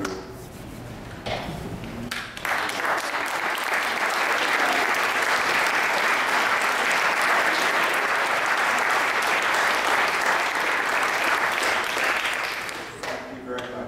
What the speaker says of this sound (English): I would love for all of them to stand up so that I can applaud with the rest of the group